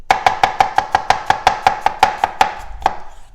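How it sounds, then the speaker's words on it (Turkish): A knife chopping garlic finely on a board: about fourteen sharp, even, rapid knocks, loud and close, with a brief pause before a final cut. "Sarımsaklarımı ince ince kıyıyorum."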